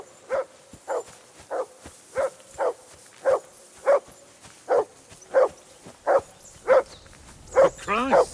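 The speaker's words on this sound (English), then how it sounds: "Call off that damn dog before he wolfs down the last of our meat" A dog in the medieval game Kingdom Come Deliverance 2 barks in a steady, evenly spaced series of about a dozen clear barks, close and loud, ending in a higher whining yelp.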